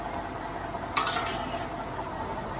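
Dal is stirred and mixed in a pan over a soft continuous sizzle, with one sharper scrape of the utensil against the pan partway through.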